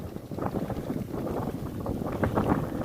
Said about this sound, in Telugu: స్ప్రింక్లర్లు అంటారు వీటిని, చిన్న స్ప్రింక్లర్లు.